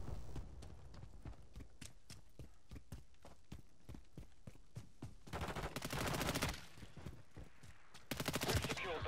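First-person shooter gunfire sounds as rapid rhythmic shots, steady single rounds followed by two dense automatic bursts, fairly near and loud against quiet speech.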